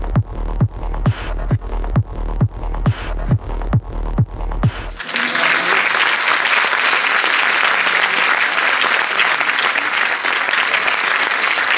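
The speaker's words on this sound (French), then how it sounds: "Oui, oui, vous pouvez applaudir." An audience applauds at the Paris premiere of The Substance at the Cinémathèque, opening with a few loud isolated claps that swell into dense, sustained applause filling the hall.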